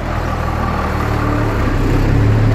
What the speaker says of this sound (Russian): Он газует.